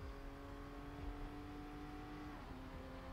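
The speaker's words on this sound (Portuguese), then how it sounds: "Estamos vendo em câmera lenta esse som mais turvo aí do ronco do motor." A Formula 1 car engine in the F1 2020 video game at the Hanoi circuit, played in slow motion, gives a muffled, continuous low roar with a faint, steady tonal hum that dips slightly near the end.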